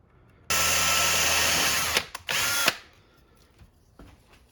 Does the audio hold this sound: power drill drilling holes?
yes